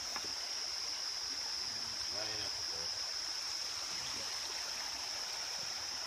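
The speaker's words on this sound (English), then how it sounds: "I love it when you can hear the water." A creek on a nature preserve trail flows steadily with a soft, continuous rush of moving water, faint and constant, while brief voices and a high whine sit in the background.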